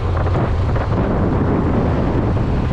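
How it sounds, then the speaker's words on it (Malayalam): Loud, steady wind buffeting close to the microphone while riding a Hero Xtreme 125R motorcycle, a continuous low roar with no voices. "നല്ല കാറ്റുണ്ടല്ലോ."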